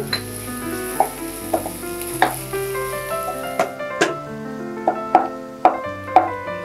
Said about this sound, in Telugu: ఒక మీడియం సైజ్ ఉల్లిపాయ ముక్కల్ని వేసేసుకుని కొద్దిగా సాల్ట్ వేసుకుని ఉల్లిపాయ మెత్తబడేంత వరకు ఫ్రై చేసుకుంటే సరిపోతుంది